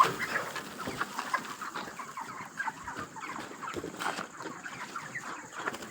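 Chickens at a poultry farm cluck and chatter continuously, many birds overlapping at moderate distance with a constant busy murmur and no speech.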